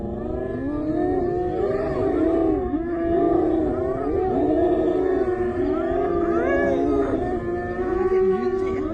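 A lion and a pack of hyenas clash, with continuous loud roaring, rising and falling howls and whooping calls layered over one another, close and sustained throughout without pause.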